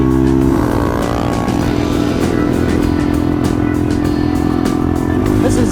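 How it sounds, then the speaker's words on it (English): A Yamaha TW200 motorcycle in fifth gear at wide open throttle rides across the Mojave Desert, its engine droning loud and steady throughout with wind rush over it. "This is 5th gear, wide open throttle right here."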